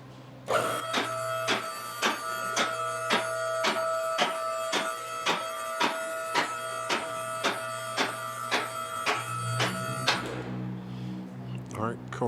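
A car lift raises a 2020 Subaru STI in a garage, giving a steady low motor hum under a regular series of sharp mechanical clicks about once every half second, which stop abruptly near the end as the lift halts.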